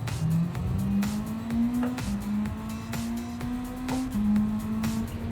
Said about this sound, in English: So it sounds meaner, the engine.